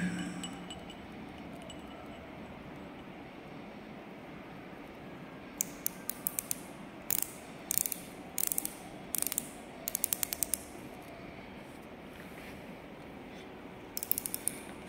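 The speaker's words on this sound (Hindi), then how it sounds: "ये देखिए रैचेट की सहायता से आपको इसको रोटेट करना है" A micrometer's ratchet thimble being turned gives short bursts of sharp, close mechanical clicks in quick runs, separated by pauses over a quiet background, with no talking.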